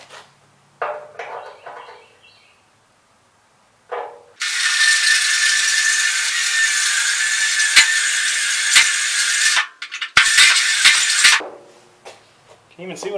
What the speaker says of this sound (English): I do have an actual weld drilling bit for drilling out spot welds